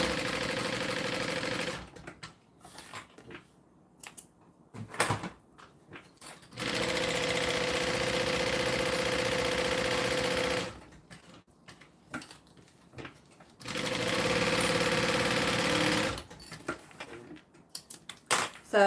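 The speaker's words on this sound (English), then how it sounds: "now we're going to sew this" Sewing machine stitching a fabric bag, running in two steady sustained bursts of several seconds each with quiet pauses between, close and fairly loud.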